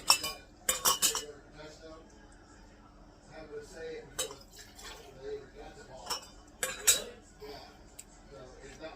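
Sharp metallic clinks of a ladle striking glass canning jars while ladling turkey broth, several quick taps in bursts, with faint voices murmuring in the background.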